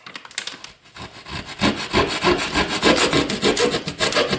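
Material is cut away during replacement of a single electrical socket with a double one, producing loud, close, rapid rasping back-and-forth sawing strokes that build after a brief quieter start.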